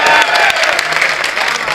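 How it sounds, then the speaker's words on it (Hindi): Loud applause bursts from a crowd at a Hindi stand-up comedy show, dense clapping with cheering mixed in over a short stretch, and a voice talking over it. "ताली बजाओ भाई जोरदार।"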